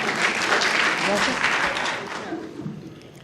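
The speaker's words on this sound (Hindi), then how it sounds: "एक बार तालियां बजा के इजाज़त दें।" Audience applause at a ladies' mushaira, a full burst of clapping that holds steady and then thins out toward the end, with a voice speaking over its tail.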